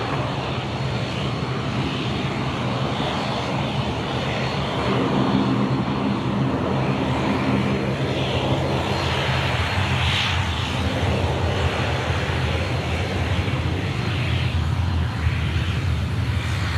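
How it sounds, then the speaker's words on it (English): Airliner on its takeoff roll from runway 34 left at Sydney Airport, a loud, steady, broadband engine roar that holds constant and heavy throughout, heard from nearby with no speech. "runway 34 left, cleared for takeoff"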